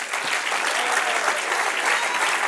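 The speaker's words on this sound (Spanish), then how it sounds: "Otro aplauso al Señor" A congregation applauding the Lord during a church sermon, a full, even burst of many hands clapping at once, loud and sustained without a break, no speech on top.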